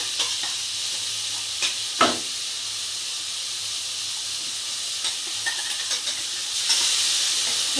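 Onion paste frying in a pan for masala egg curry gravy, with a steady soft sizzle and hiss, occasional stirring scrapes and a brief louder clatter near the start.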